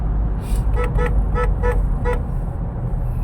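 While driving on a road in Thailand, a driver taps the car horn in a quick run of about six short, loud toots as a road cyclist drifts into the lane, with a low engine and road rumble underneath.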